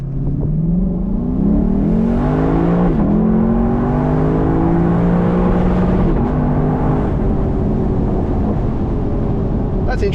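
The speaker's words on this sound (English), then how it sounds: "I'll just nail the throttle and we can see what sort of speed first gear gets to" A Lexus LC 500 Convertible V8 accelerates hard in first gear, its engine note climbing loud and close in a rising roar. The note drops briefly before rising again toward a sustained high-rev drone.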